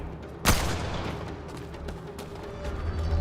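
A single loud gunshot bursts out in Mass Effect: Andromeda, then gives way to a rumbling, noisy combat ambience that continues at a steady level.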